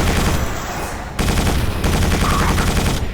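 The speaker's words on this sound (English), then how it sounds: "That must be one of those drop turrets." Dense, continuous fire from a drop turret in Quake 4, with sustained rapid shots loud and close, briefly dipping before resuming, no talking.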